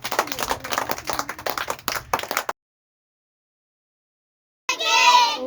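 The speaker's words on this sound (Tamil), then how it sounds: "கட்டிக்காரன் அவருக்கு ஒரு கைதட்டு கொடுங்க" An audience at a Tamil music class at a school claps for a student in a brisk burst of applause lasting a couple of seconds. Silence follows, then a short sung or sustained tone.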